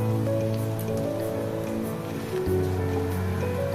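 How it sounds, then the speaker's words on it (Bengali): Paratha sizzles and crackles in a hot pan, a steady spattering fry with a low humming tone beneath, continuous and fairly close for a few seconds without speech. "ভাবলাম পরোটা ভেজে আর ডিম ভাজি করবো"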